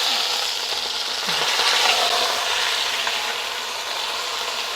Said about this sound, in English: So it's been searing for about 3 minutes, and now I'm going to turn it over.